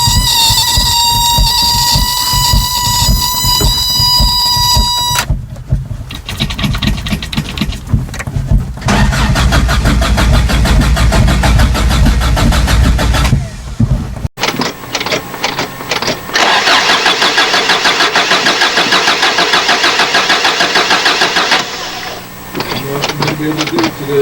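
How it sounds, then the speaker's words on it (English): A 1985 Toyota Pickup with the 22R engine cold-starting: a steady beeping chime, then the starter cranking and the engine catching into a loud, rough idle, close up. "we'll start it up, or try to start it up"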